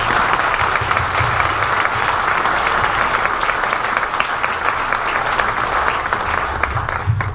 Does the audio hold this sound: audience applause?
yes